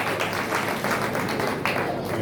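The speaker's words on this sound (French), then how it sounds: "On nous applaudit pour nous, s'il vous plaît" Audience applause at a 16th-anniversary celebration for Bataillon Arcahaie: a steady, dense wash of clapping that holds evenly from start to finish with no voices standing out.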